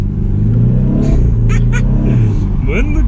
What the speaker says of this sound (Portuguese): vou parar o carro e vou acelerar